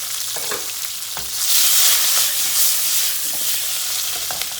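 Onions sautéing in a pan, a loud, dense sizzle that swells midway and holds steady, with a few soft knocks of stirring near the start.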